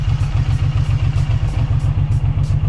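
A 2025 Suzuki motorcycle idles on its stand in a garage, a loud, close, steady low engine throb with an even pulsing rhythm and light mechanical clatter ticking over the top.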